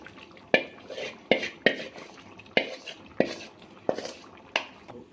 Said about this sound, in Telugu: ఇప్పుడైతే పన్నీర్ వేసేస్తున్నాను